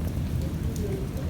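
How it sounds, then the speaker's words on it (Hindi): A short stretch of monsoon rain falls steadily on surfaces in a village, a soft dense patter close by. "आप देख सकते हैं कितनी प्यारी बारिश हो रही है"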